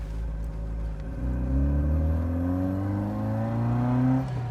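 An MGB Roadster's engine pulls hard while driving, a loud steady drone that climbs smoothly in pitch as the car accelerates, with no talking over it.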